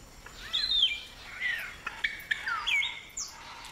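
Palm cockatoos call back and forth at their nest hollows with whistled, sliding notes and short chirps, moderately close over a soft, hissy background with no talking.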